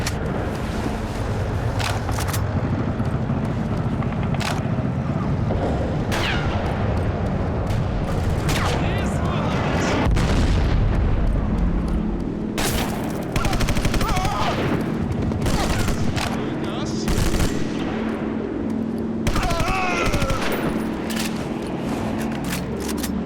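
Enemy gunfire in the World War II shooter Sniper Elite, repeated sharp shots and bursts cracking over a dense rumbling game soundscape for the whole stretch, with a player talking over it at times.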